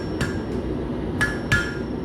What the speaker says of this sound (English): I'm going to place it just past the edge of the anvil and bend it until I get a curl